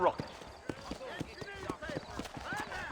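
A horse's hooves clip-clop in a steady rhythmic trot in Red Dead Redemption, close and distinct, while people talk over it.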